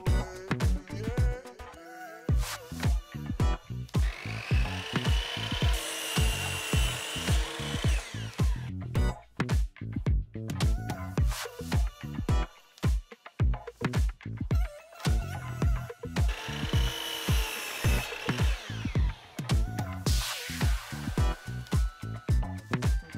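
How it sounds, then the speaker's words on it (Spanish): A miter saw cutting oak boards in a woodworking shop, with repeated bursts of motor whine and blade bite separated by short pauses. The sound is loud and close and carries on steadily throughout. "Todos los cortes los haremos con la sierra ingleteadora, ya que así nos aseguramos la mayor precisión."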